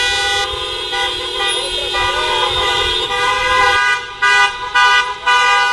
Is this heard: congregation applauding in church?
no